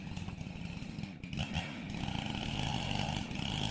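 A chainsaw cuts the felling notch in a dead tree, running loud and continuously with a rough, buzzing engine drone that dips briefly mid-cut before settling back under load.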